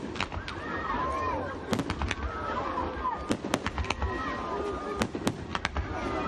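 Fireworks bursting at an outdoor Kurban Bayram festival in Crimea, a steady crackle of many sharp pops and bangs scattered across the whole stretch, with a crowd murmuring beneath.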